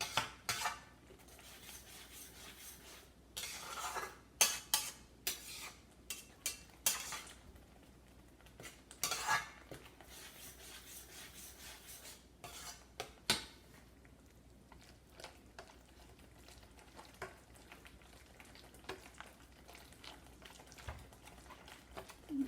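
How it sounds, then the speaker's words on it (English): Hot mixed vegetables for pav bhaji are mashed in a metal pan, with repeated scraping and knocking of the masher against the pan, in bursts of clattery strokes that thin out toward the end. "When they are hot, we can mash them very nicely."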